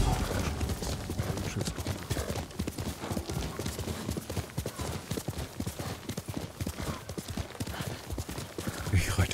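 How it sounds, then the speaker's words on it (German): Horse hoofbeats in the Ghost of Tsushima video game pound in a fast, steady clip-clop rhythm throughout a ride, close and continuous over busy game sound. "Ich reite einfach mal quer durch da."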